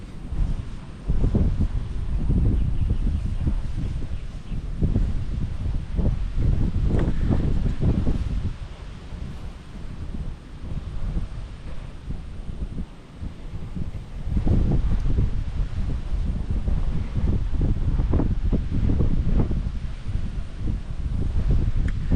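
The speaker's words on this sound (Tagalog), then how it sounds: "Napakalakas ang hangin." Strong gusty wind buffets the microphone in loud, rumbling surges that ease briefly midway and then build again.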